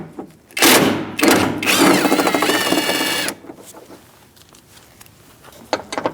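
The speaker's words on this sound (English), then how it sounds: "And now we're going to use a 10mm socket. And now we're going to remove these 4 nuts." Power-driven 10mm socket spinning nuts off a front power window regulator on a 2016-2019 Chevrolet, with short bursts of buzzing ratchet whir followed by a sustained run and a few clunks, loud and close.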